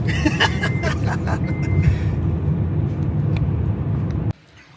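A car drives along a road near the Appalachian Trail by Moosilauke, a steady close engine and tyre rumble with faint background chatter, cutting off abruptly near the end.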